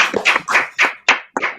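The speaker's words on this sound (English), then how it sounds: "A round of applause, please, for our graduate Lisa." A short round of applause for a graduate, about six quick, close handclap bursts in an uneven rhythm, with no voices.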